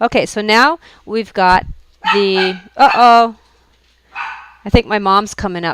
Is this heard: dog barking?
yes